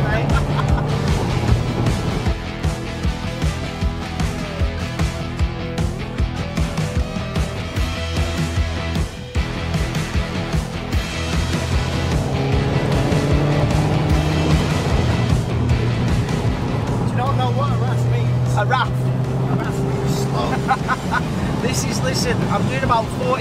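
Seat Leon Cupra K1 driving on a national speed limit road at around 45 to 50 mph, a steady engine and road drone running throughout under continuous in-car talk.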